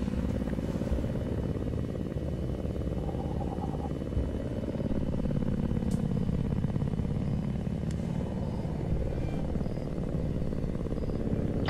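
A helicopter engine runs steadily and close by, its low rotor drone and whine continuous throughout with no pauses.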